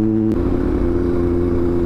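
A Kawasaki Z900 motorcycle being ridden over potholes, its engine droning loud and steady with a strong low hum throughout, briefly shifting in tone near the start.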